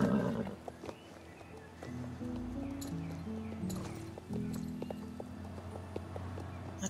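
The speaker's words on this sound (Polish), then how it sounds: "Ale właśnie ten jorwicki koń fryzyjski, ten nowy, najnowszy." Hooves of a Friesian horse clip-clop in the video game Star Stable Online, a steady rhythmic trot with a brief whinny, moderately loud over soft game music, no talk.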